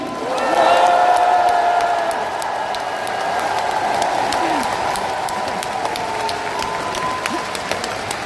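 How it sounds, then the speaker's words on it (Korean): A big party rally crowd at a Democratic Party primary victory speech applauds the two candidates warmly, with cheers and whoops over a steady, full roar of clapping. "우리 두 분 후보님께 뜨거운 격려의 박수를 부탁드립니다."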